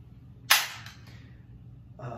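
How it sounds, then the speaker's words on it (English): Spring launcher on a physics track firing a smart cart: a single sharp snap near the start, followed by a fainter rolling rush and a softer knock near the end. "fire it so that it imparts a force on the cart and shoots it across the track"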